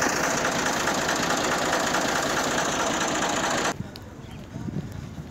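An IMT tractor engine, stuck in mud, runs with a loud, steady, rough drone for several seconds, then drops off abruptly to a much quieter background.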